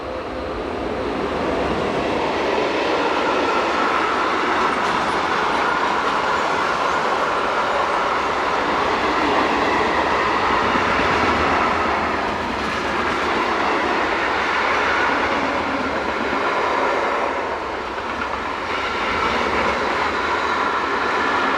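Trains on the Hannover to Magdeburg main line in Germany in 2015 roll past with a loud, continuous rumble and rattle of wheels and wagons that swells and fades slightly over a long passage.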